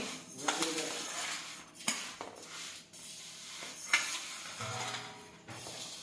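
Fenugreek seeds and salt for mango pickle are stirred together in a large bowl, giving a continuous gritty rattle and scrape with a few sharper clinks against the bowl, close and moderately loud.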